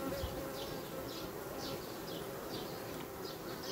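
Honeybees at a hive around a queen cage, their dense, continuous buzzing close and loud, with individual bees droning past.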